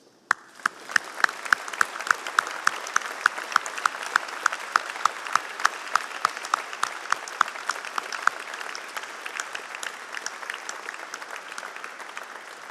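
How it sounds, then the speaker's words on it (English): Graduands at a University of Lincoln graduation ceremony applaud their supporters, filling the hall with sustained dense clapping and a crisp, rhythmic beat of unison claps that fades toward the end. "Turn around and give your supporters a round of applause."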